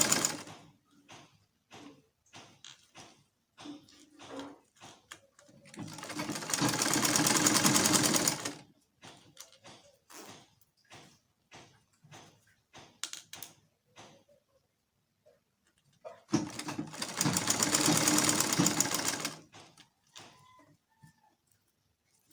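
A sewing machine stitches a bodice in two sustained whirring runs of a few seconds each, separated by scattered light clicks and taps of handling nearby.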